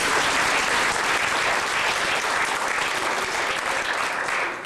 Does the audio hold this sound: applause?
yes